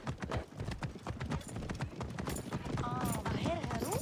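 Quick rhythmic horse hoof clip-clop from riding in Assassin's Creed Origins runs throughout at a steady gallop, fairly quiet, with someone speaking over it and a few short tonal game sounds near the end.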